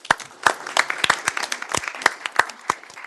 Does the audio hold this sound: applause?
yes